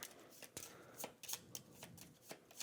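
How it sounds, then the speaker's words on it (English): A deck of cards for the Dune: Imperium Uprising board game is shuffled by hand, giving close, crisp riffling bursts and flicks in an uneven rhythm. "Okay, that's probably plenty of shuffling."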